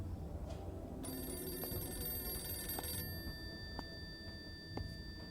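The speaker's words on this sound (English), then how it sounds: "The phone's ringing." A telephone rings for about two seconds in the horror video game Jesus Can't Save Us. The bright bell tone is faint and sits over a low ambient drone with a few soft knocks and clicks.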